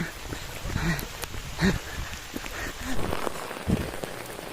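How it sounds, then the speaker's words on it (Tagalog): Steady, dense rain patters hard on surfaces all around, with faint voices murmuring underneath. "Nabutan kami ng ulan."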